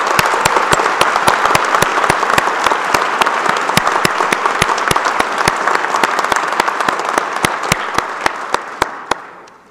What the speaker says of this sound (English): Let's have another round of applause for our student award recipients.